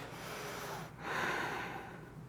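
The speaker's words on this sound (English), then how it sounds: "2 more breaths here." Soft, steady breathing during a seated chair yoga pose: a quiet nasal exhale with a brief pause, then a longer airy breath, faint and close.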